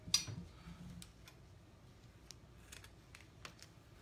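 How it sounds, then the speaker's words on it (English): Scissors cutting apart a fall garland: a handful of faint, sharp snips and clicks spaced irregularly, close by in a quiet room. "So I'm gonna actually cut this apart."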